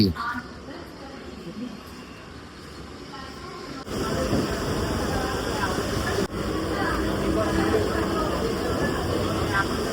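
Rumbling hum of a Mumbai local commuter train bound for Titwala, quieter at first, then louder and steadier as it gets underway, with faint voices in the background.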